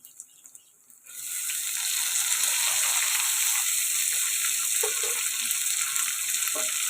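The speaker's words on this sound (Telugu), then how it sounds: "ఇలా ఫ్రై అవుతాయి కదండి ఇప్పుడు టమాటా ముక్కలు కూడా వేసుకుందాం" Tomato pieces are added to eggplant frying in a pan for a gongura curry, and after a brief quiet start a loud, continuous sizzle bursts up and holds steady, with a few soft stirring clatters and no voice.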